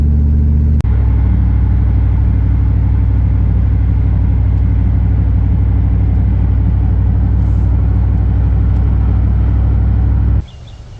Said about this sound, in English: I'm just going to drive around for a couple more minutes